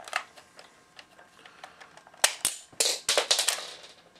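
A 2010 Transformers Unicron toy fires its plastic projectiles in a quick, uneven burst of sharp, loud clicks and snaps, close up, following a stretch of softer ticking and rattling as the pieces are loaded.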